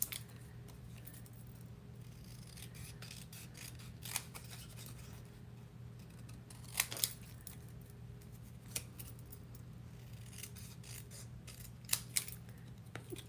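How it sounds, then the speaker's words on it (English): Scissors snipping through paper card by hand, quiet close clicks and slices scattered irregularly over a low steady hum, with a few sharper cuts standing out, no talking. "I'm just going to hand cut it"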